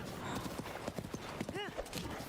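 Horse hooves clip-clop in the video game Zelda: Breath of the Wild, a quick run of hoofbeats close by, with a short whinny-like cry partway through and someone talking over it.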